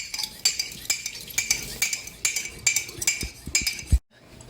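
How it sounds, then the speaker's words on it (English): Eggs are beaten in a bowl with a utensil, a rapid rhythmic clinking and tapping against the sides, close and bright, ending in a soft thud before silence. "Then we're going to stir the egg around to beat it."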